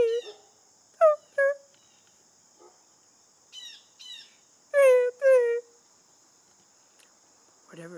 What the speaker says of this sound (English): Yes, I told you, B flat bird.